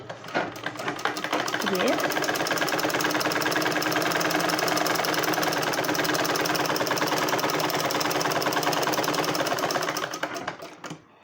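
A sewing machine runs continuously while stitching a blouse, a fast mechanical rattling whir that starts near the beginning and stops just before the end, with a voice briefly heard over it.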